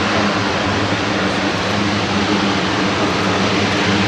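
A Royal Canadian Air Force Super Hercules turboprop transport reverse taxiing at the Royal Navy International Air Day, Yeovilton 2019, giving a steady, loud, unbroken engine roar and broadband rush with no talk.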